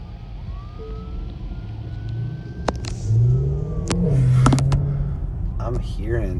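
An ambulance siren sweeps along Colfax street in Denver's Mile High City on a Saturday night cruise, a rising and falling wail at moderate distance over passing car engines and street noise, with people talking nearby.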